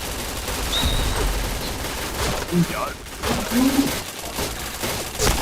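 Gunfire in the video game PointBlank, bursts of rapid shots layered over game effects, with a player talking over the action.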